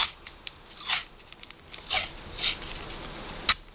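Masking tape is torn off in short bursts and pressed onto a card rocket mount, giving sharp intermittent ripping and crinkling sounds close up, with quiet gaps between pulls.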